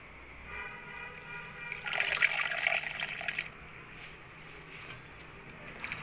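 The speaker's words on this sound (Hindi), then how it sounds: "इसे अच्छे से डुबा डुबा कर धोएंगे।" Mint leaves being washed by dunking them in a large tub of water, giving a burst of splashing and sloshing that lasts a couple of seconds between quieter stretches.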